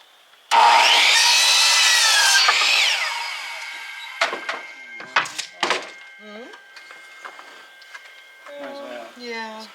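A deck board being cut for firewood with a power saw: one loud continuous cutting burst for about two seconds, then fading, followed by scattered knocks and clatter, with people talking in between.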